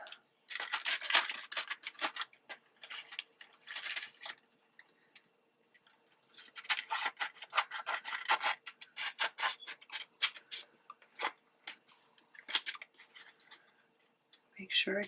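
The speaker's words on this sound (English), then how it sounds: "I'm going to trim this off." Scissors snip and trim wax paper for a junk-journal envelope, crisp cutting and paper rustle in bursts with pauses between, close and fairly quiet.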